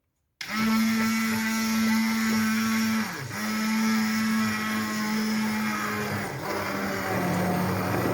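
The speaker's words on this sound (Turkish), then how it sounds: "İndi mən blenderdən keçirim, göstərirəm ki, bax beləncə eləyirəm." An electric blender whirs steadily with a strong motor hum while blending quince for jam, briefly dipping in pitch twice as the load shifts, loud and close with no talk.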